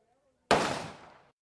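Single rifle shot fired at a range toward a figure 11 target: one sharp, loud crack after a brief quiet stretch, decaying over about a second.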